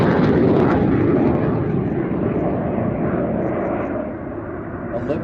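A Saab Draken fighter jet passes at an air festival, a broad roaring engine rush that slowly fades as it moves away, with a narrator talking over it.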